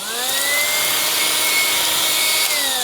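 A Black & Decker PD1200AV or BDH1200FVAV cordless car vacuum cleaner runs steadily at close range, its motor whine holding a constant pitch that drifts slightly upward after start-up and dips near the end, with no talking.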